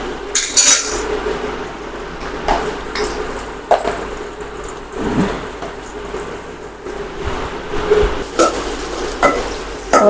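Onions sizzle in a pan while a spoon stirs and scrapes through them, producing loud, close frying hiss with repeated irregular clanks and scrapes and no talking.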